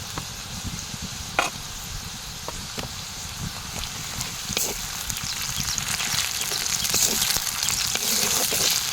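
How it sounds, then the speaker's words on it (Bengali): Ground spice paste fries in hot oil after onion with a steady sizzle, broken by occasional sharp clicks and scrapes of stirring. "মশলাটা ভাজা হয়ে গেছে"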